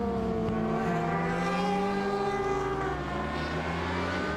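Sidecar racing motorcycle engine at the Pau-Arnos circuit, a loud, sustained high-revving whine with shifting pitch as it accelerates and eases off, heard up close and alone.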